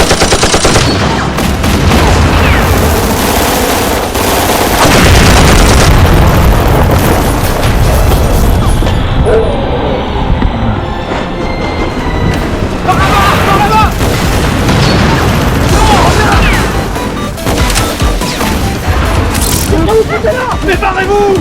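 Gunfire and booming blasts in a video game, dense and loud throughout, with excited voices talking over the shooting.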